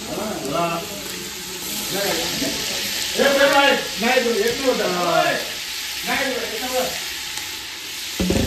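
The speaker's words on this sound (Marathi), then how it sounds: "मच्छी फ्राय होते." Marinated fish frying in a pan, with a steady sizzle running throughout and people talking over it.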